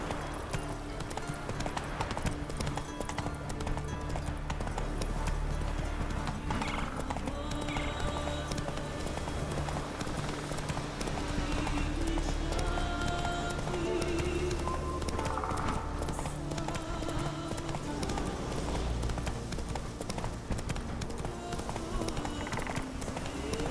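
Roach, a horse in The Witcher 3 on Xbox One S, gallops with steady rapid clip-clop hoofbeats under continuous game music and ambience, with an occasional whinny.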